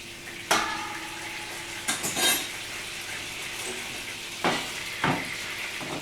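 A small splash of water hits a pan holding meat juices, bringing quiet sizzling bursts mixed with a few light utensil clinks and scrapes, faint and close.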